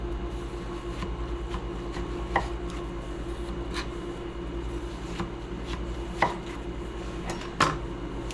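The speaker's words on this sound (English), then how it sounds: "I'm gonna cut this pretty thin" A knife slices vegetables thinly for watermelon salsa, faint sparse cuts tapping at uneven intervals over a steady low background hum.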